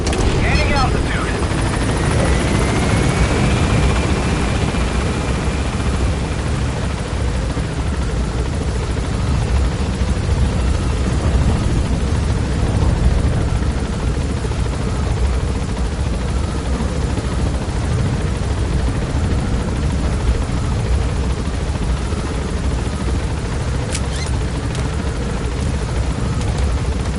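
A helicopter gaining altitude in Metal Gear Solid 5: a steady, loud rotor thump and engine drone that continues throughout, with a brief rising tonal sound early on.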